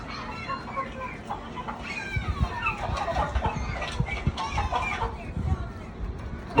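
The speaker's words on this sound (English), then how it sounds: "Chicken show." Chickens cluck steadily at a farm chicken show at Orr Family Farm, moderately close, with people talking and crowd murmur throughout.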